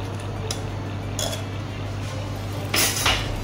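A metal spoon clinking against a pot as ghee is added while cooking shoom fish in a Kuwaiti family kitchen, three brief bright clinks spaced apart over a low steady hum, no speech.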